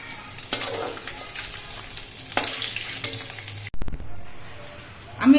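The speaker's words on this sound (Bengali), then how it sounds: "সবগুলো মাছই আমার ভাজা হয়ে গেছে আমি নামিয়ে নিচ্ছি" Fried khoira fish lifted out of hot oil in a kadai, with a continuous close sizzle and a few metallic scrapes, a brief break, then quieter frying and a short thump at the end.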